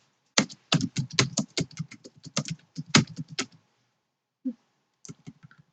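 Rapid typing on a computer keyboard while entering a chart title, crisp clustered key clicks in quick bursts, then a pause and a few more isolated taps, close and clear.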